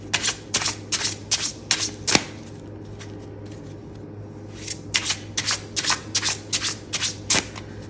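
A Go Foil Tarot deck, long stored in a box in a garage, is shuffled in two bursts of quick, crisp riffling card slaps with a short pause between, close and alone.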